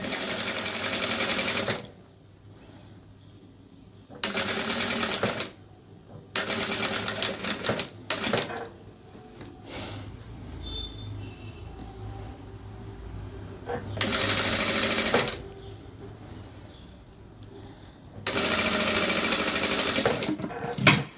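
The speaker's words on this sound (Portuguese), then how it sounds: "Aqui eu vou costurar novamente." A sewing machine stitches fabric for a bandana in several loud, rapid whirring bursts separated by pauses and quieter handling noises.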